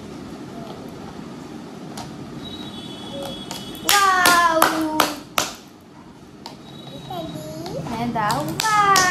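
A burst of repeated hand claps close by during a child's play session at home, with a child's and an adult's voices talking around the claps.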